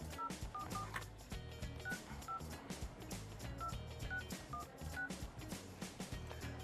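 A sequence of telephone keypad tones, roughly a dozen short beeps in an uneven dialing rhythm, sits over busy background music and noise.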